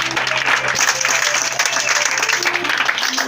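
A church congregation claps for Jesus in a steady, dense burst of applause that keeps up the whole time, with crowd voices mixed in under it.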